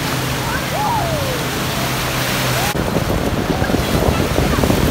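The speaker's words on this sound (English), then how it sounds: "Big waves for a lake." Big waves on Lake Michigan in Chicago, a continuous broad wash of surf mixed with gusty wind noise, loud and close, with faint voices underneath.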